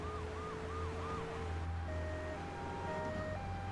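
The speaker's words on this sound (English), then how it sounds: "the ambulance is driving around over here" Ambulance siren in the video game Grand Theft Auto III, a steady wailing siren cycling up and down over constant loud engine and street noise, then giving way to shifting tonal game sounds, with no talking.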